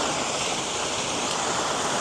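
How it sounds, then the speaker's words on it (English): Waterfall at Fairy Glen, Appley Bridge, heard from the side beside a mossy rock wall: a constant, loud, full rushing roar of falling water with no breaks. "I'm actually looking directly at the waterfall from the side."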